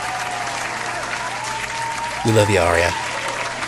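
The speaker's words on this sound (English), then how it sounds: "Please clap." Audience applause and cheering at a live show, a steady wash of clapping that swells when a voice shouts out from the crowd.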